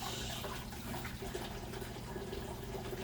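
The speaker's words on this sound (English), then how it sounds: "I'm going to rinse my hands really quick. Do a quick wash." Tap water runs steadily under a kitchen faucet while hands are rinsed during cooking, a continuous close splashing wash with no talking.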